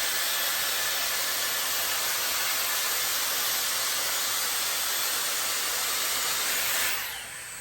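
Dyson Airstrait hair straightener blowing a steady, loud, close rush of air through soaking-wet hair, holding evenly for several seconds before cutting off.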